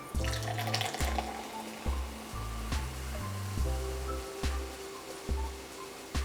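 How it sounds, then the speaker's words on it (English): Coca-Cola pours into a glass with a close, faint stream of liquid splashing and fizzing, broken by a series of short gulping glugs from the bottle at an uneven rhythm. "Let's see how Coca-Cola pours."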